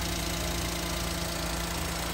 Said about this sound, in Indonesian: Dan ini suara mesinnya